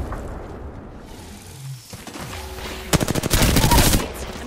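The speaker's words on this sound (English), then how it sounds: "Getting shot at." Rapid bursts of gunfire from the Apex Legends battle royale shooter crack out loud and close in the second half, following a quieter stretch of game ambience.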